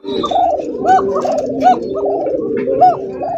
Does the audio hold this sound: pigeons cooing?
yes